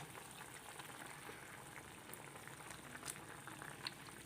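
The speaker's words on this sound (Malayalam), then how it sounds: "ഇപ്പോൾ കുറച്ച് സമയം ഈ കറി തിളച്ചിട്ടുണ്ട് ഉണ്ട് നന്നായിട്ട് തിളയ്ക്കുന്നുണ്ട്" Fish curry made with ambazhanga simmers in a pot, giving a faint, steady bubbling and fizzing with occasional soft pops and no talking.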